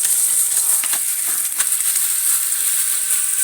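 Small fish, freshly netted, fry in hot oil over an open fire, giving a steady, close hiss and sizzle with faint pops and crackles throughout.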